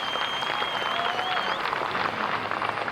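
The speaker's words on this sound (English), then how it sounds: "Give yourselves a big round of applause." An audience in Dawson Creek gives a big round of applause at the close of a show. The clapping is continuous and fills the room, with a thin whistle rising above it.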